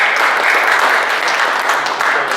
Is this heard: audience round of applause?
yes